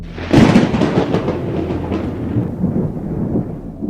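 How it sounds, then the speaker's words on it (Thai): Thunder from a lightning strike cracks in loud and close, then rolls on as a heavy, rumbling boom that slowly fades. "ก็เกิดฟ้าผ่าเปี้ยงลงมาที่กลางศาล"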